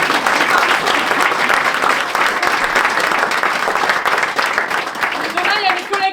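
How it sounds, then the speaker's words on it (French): A crowd at a parody stage show applauds the teachers, loud dense clapping filling the room with cheering voices mixed in, and a few higher calls near the end. "On peut applaudir les maîtresses quand même."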